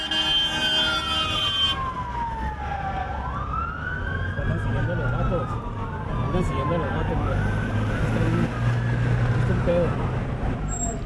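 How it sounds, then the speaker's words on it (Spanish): Federal Police car sirens wail through a city, rising and falling in long sweeping tones over steady traffic rumble, loud and continuous, while a narrator talks throughout. "las sirenas de los carros de la Policía Federal se escuchaban en buena parte de la ciudad."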